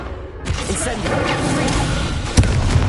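A fire spell cast in Hogwarts Legacy bursts in with a sudden whooshing blast, followed by a sustained roaring crackle and a second sharp impact near the end, loud and close.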